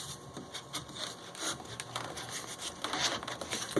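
A hand saw cuts through scrap wood at close range, a quiet, rapid, scratchy rasp of repeated strokes heard alone.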